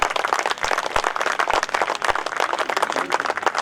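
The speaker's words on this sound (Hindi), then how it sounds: "तो एक बार जोरदार तालियां दीजिए" Audience applause at a Hindi hasya kavi sammelan poetry recital in Yara Township, a steady crowd of many hands clapping, moderately loud and sustained throughout without talk.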